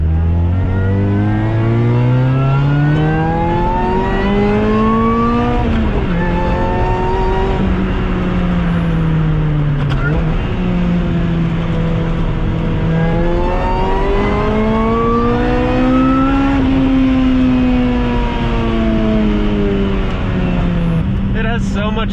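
A supercharged Lotus Exige drives hard from inside the cabin, its engine revving up through the gears in rising sweeps with shifts between, loud and continuous, with occasional voices over the drone.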